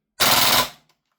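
Airsoft gas blowback HK UMP .45 firing a very fast two-round burst, heard as one loud, sharp, close-range blast lasting about half a second, with a brief faint click afterward.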